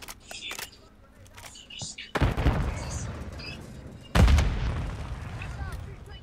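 Two heavy shotgun blasts boom out in a Call of Duty: Modern Warfare II beta match, each a loud broadband crack with a lingering rumbling tail, spaced about two seconds apart after quieter game noise.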